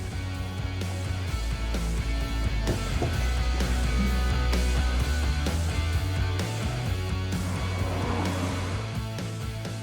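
Western Star heavy truck driving on the road, with a steady loud engine drone and low rumble continuing throughout without a break.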